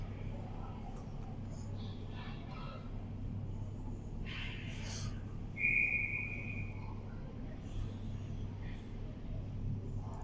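A referee's whistle at a U18 girls' ice hockey game in a rink, one short shrill blast cutting through the hollow arena hum, with muffled crowd and play noise before it.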